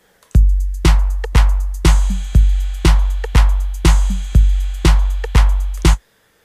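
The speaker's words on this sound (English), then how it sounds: "Now using this play button, let's hear what our beat sounds like." A drum machine beat plays back from the BOOM plugin in Pro Tools 8, a steady loop of punchy kick and snare hits at about two per second, loud and clean, stopping after six seconds.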